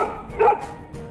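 A single short dog bark, near and clear, rises briefly out of a quiet background with no talking around it.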